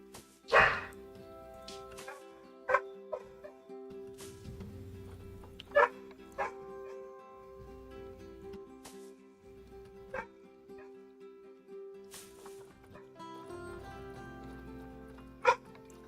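Dogs at a rescue zoo safari park barking and whimpering: sharp yips and barks punctuate a long, steady whine, with soft whimpers in between, fairly close and moderately loud.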